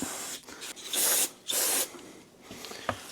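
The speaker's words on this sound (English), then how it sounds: "I've got a parts cleaner in my Shelter Logic there." Parts cleaner spraying in a workshop while cleaning greasy side-by-side (SXS) parts, with two loud sustained hissing bursts close by, separated by a short pause, then quieter handling noises.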